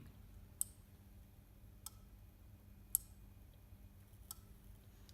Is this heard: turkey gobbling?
no